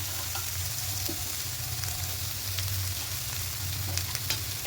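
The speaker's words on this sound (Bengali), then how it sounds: "দিয়ে সবগুলো খুব ভালো করে কষিয়ে নেবো" Ground spices and kasuri methi frying in a pan while being stirred, giving a steady close sizzle with faint scraping, no talking.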